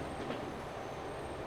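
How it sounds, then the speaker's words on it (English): A steel train rolls into a machine factory in the Transport Fever game, a continuous rumble of railcars with faint clickety-clack and a high whine above, steady and moderately loud with no talk. "a steel train coming into the machine factory"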